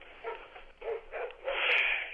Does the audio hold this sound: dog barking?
yes